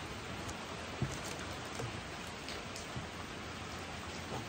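Heavy rain pours steadily outdoors during a rabbit harvest, a dense, even hiss of drops on surfaces with a few louder patters standing out, no voices over it.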